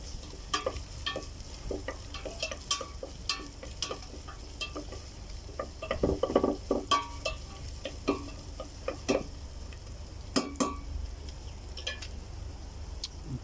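Ginger and other ingredients sauté in a pot for salmon belly sinigang, a soft steady sizzle broken by repeated scraping stirs and clinks of a utensil, close and without talk.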